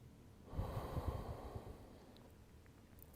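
Slow audible breathing from a seated yoga class on the floor, a soft breath with a low rush in the first half that fades to quiet room tone.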